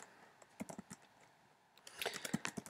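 Code typed on a computer keyboard, faint clicking keystrokes in two short bursts separated by a brief pause.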